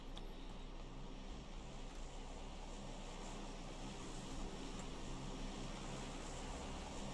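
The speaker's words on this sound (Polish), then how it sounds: "Samolot." A steady airplane engine drone in PUBG Lite, faint and continuous like a distant aircraft passing overhead, with no talk.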